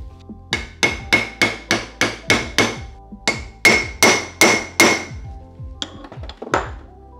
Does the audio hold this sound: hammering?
yes